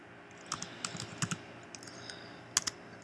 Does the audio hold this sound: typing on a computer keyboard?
yes